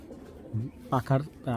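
A racing pigeon coos close by in a few short, soft throaty bursts within a quiet space.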